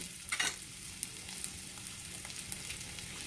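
Bottle gourd (upo) sautés in a pan, a soft steady sizzle with a few light clinks and stirring scrapes, faint and close, with no voices.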